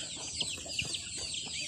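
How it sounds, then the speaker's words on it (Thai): Fighting cocks cluck outdoors, several short, uneven clucks and calls in quick succession against a constant high-pitched insect or bird background. "ดูไก่ชนลุงบ่าวนะคะ"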